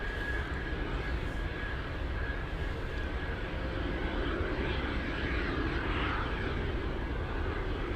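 Boeing Dreamlifter cargo jet landing in a crosswind at windy Anchorage airport, a sustained broad engine rumble and rushing air with a faint whine, steady and fairly distant, no voices.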